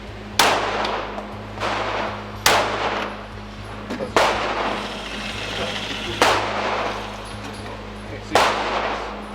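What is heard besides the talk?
gunshots fired at a shooting range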